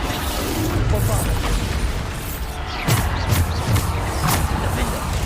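A Bombarda blasting spell in Hogwarts Legacy goes off with a loud booming burst, followed by a few more sharp impacts amid busy game noise and an excited voice.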